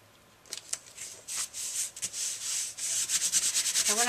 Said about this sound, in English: what I'm going to do is just kind of rub this a little bit